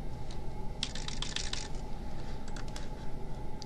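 Computer keyboard typing, a short burst of quiet, rapid key clicks over a low background hum, with no talking.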